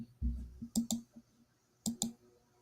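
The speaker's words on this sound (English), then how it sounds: "that clicking actually is pretty annoying" Faint clicking in pairs: two quick clicks, a pause, then two more, soft and near, with no voices over them.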